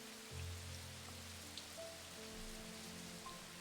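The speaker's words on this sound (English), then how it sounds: "Okay, it is raining." Steady rain patters softly in Strange Antiquities, a continuous quiet wash with faint low hum underneath and no voices.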